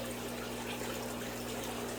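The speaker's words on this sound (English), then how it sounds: "Let the water run off." Water running off aquarium canister filter parts, a steady splashing trickle over a constant low pump-like hum, continuous and close by.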